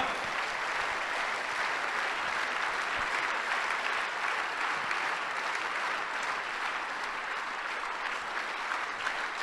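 Steady, dense applause from a large audience at an Amway Diamond success celebration, continuous and even throughout with no pauses.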